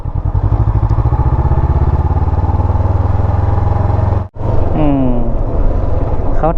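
A Honda CB500X motorcycle is ridden along a waterfront road, its engine a loud, steady, close throbbing drone that briefly cuts out and then returns with a rising gear change.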